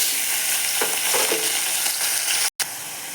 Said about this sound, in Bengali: এখন এই তেলে আমি পেঁয়াজ ভেজে নেব।